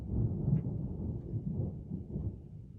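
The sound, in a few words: thunder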